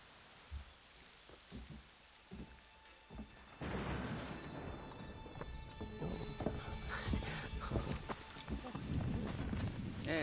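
Hooves of a horse clatter in rapid galloping rhythm through the Assassin's Creed video game, growing louder and busier partway through, with ambient game sounds and voices talking over it.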